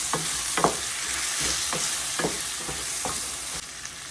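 A spoon stirs tomato into a frying prawn curry made with frozen cooked prawns, giving a steady close sizzle broken by several scraping strokes against the pan, with no talking.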